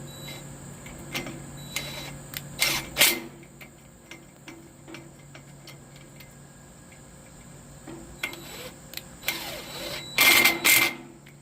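Tool clicks while patio furniture bolts are tightened on a rusty metal set, sharp ratcheting bursts heard close up in two clusters, with faint ticking and quiet handling noise between them.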